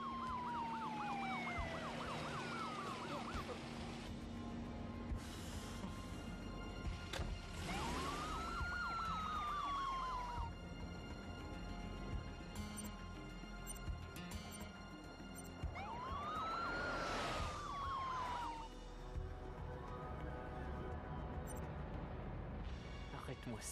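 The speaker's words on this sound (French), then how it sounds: "L'ambulance va arriver." An ambulance siren wails in rising and falling sweeps, loud and close, over traffic noise and some shouting voices.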